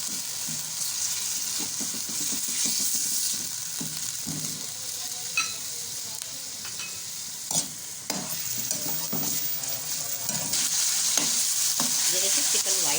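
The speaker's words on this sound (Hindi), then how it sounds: "चिकन डाल के मिक्स करेंगे।" Chicken sizzles in a karahi with ginger and garlic as it is stirred. A steady, close frying hiss runs throughout, broken by scraping and clattering stirring strokes, with no talking.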